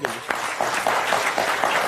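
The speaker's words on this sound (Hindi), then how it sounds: "तालियां आपके लिए।" Applause from a crowd, a dense patter of clapping that continues steadily throughout.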